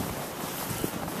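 Wind gusts hard through a snowstorm, a continuous blustery roar with rumbling buffeting against the microphone, loud and close, with no voices present.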